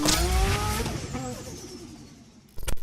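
Tuned Mitsubishi Lancer Evolution race cars, an Evo 6, Evo 7 and Evo 10 of 440 to 510 horsepower, roar and squeal their tires hard at the start of a race, the engine note fading away before another sharp burst of noise close by.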